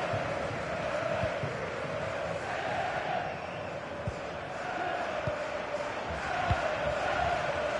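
A large stadium crowd at a UEFA Europa Conference League football match roars and applauds steadily, a dense wash of clapping and cheering with scattered thumps and shouts, fairly distant and continuous.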